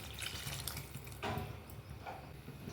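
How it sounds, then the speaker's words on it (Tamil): Tamarind extract is poured into a simmering sambar of drumstick, brinjal and mango, giving a soft, steady, close watery pouring and splashing with a couple of brighter gushes, quiet and with no talking. "இப்போ கரைச்சி வச்சுருக்கிற புளியை கரைச்சலை சேர்த்துடலாம்."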